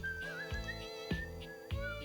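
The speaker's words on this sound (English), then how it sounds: "The lark is whistling when you walk up on him." A video game lark character whistling a thin, wavering tune over a quiet musical background, with soft low thumps at intervals.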